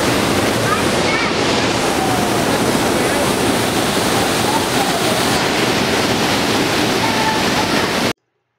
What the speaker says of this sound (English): Okay, so you just saw Fossil Creek.